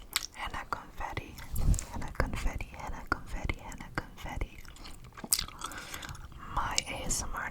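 Open-mouth gum chewing right at the microphone, with wet, sticky smacks and clicks repeating steadily under close, soft whispering.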